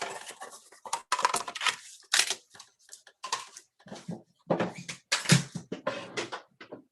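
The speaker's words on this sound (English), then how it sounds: "my noisy die cut machine." A die cut machine runs while a slimline card with stenciled roses is made, giving a series of irregular clacks, rattles and clunks of metal and plastic, close and moderately loud, with no talking.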